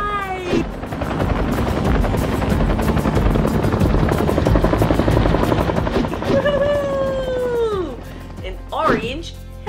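A voice imitates a helicopter with a rapid, chopping whir that runs for several seconds, then slides into swooping whistling tones; speech-like vocal sounds throughout.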